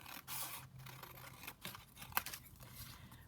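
Scissors cutting paper for a junk journal, several quiet close snips and crisp paper rustles with a sharp cut near the end.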